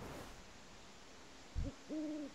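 An owl in World of Warcraft gives a single soft, low hoot after a faint thump, heard alone in a quiet game scene.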